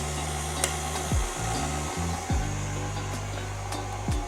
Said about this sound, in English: I'm just gonna turn my mixer on really low to start